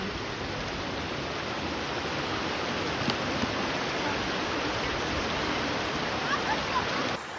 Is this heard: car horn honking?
no